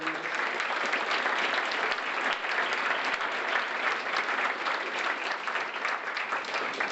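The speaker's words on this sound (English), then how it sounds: "Please join me in a final round of applause to congratulate all of the nominees and award winners." A seated audience at an academic recognition ceremony applauds award nominees and winners, a sustained, even round of clapping that fills the room for the whole stretch without voices.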